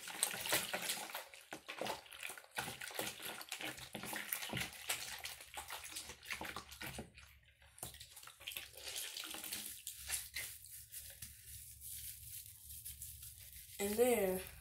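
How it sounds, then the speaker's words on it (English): Water splashes and sloshes in a sink as a cloth mask is rinsed and squeezed, ending with a brief gush from the tap. "I'm going to rinse the water out. Well, squeeze the water out. And do a rinse."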